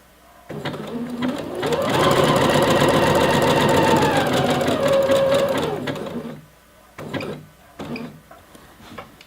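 A sewing machine stitches elastic onto a fabric waistband, running loud and steady for several seconds with a rapid mechanical chatter, then slowing and stopping, followed by a few short bursts of stitching.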